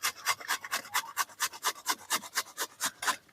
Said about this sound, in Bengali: তো এই দেখুন এখন আমি গ্রেট করে নিচ্ছি।